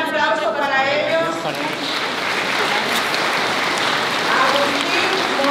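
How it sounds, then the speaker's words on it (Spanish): A crowd applauds during a Guadalupe torch-run event, steady clapping of moderate loudness with voices and chatter running under it from the start. "Un aplauso para ellos."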